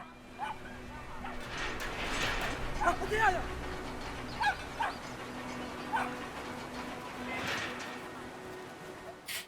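Dog barks and yips heard in the video game Brothers: A Tale of Two Sons, several short sharp outbursts spread unevenly through the stretch, close and moderately loud over a steady game music and ambience bed, with a voice talking underneath.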